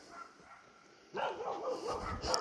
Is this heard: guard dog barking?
yes